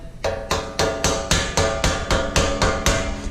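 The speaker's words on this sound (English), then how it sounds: "Now, as you're using the hammer" A hammer strikes a rivet set against a steel anvil head while ends are fastened to a toolbox bottom, ringing out about ten sharp, evenly spaced metallic blows close up with no talk.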